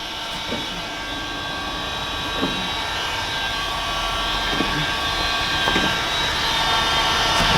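A heat gun blows a steady, even roar of hot air as it heats and shrinks rear window tint from inside a vehicle. The rushing hiss holds constant throughout, with a few faint taps and no speech.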